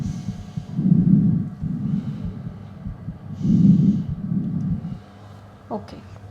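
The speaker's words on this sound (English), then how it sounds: "Can you take a deep breath for me?" A patient draws slow, deep breaths during a clinical medical examination, two long inhale-exhale cycles heard up close and fairly loud, followed by a quieter pause and a faint click at the end.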